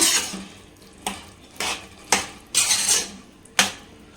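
A spoon stirring mutton-style mushroom gravy in a pan knocks and scrapes against the metal in about six separate clanks, irregularly spaced and close, with quiet gaps between.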